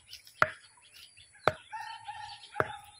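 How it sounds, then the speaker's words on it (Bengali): Birds calling from trees beside a sesame field in the countryside: three sharp, loud chirps spaced about a second apart, with softer warbling calls and faint rustling between them. "পাখিগুলো কোথায় ডাকছে গো?"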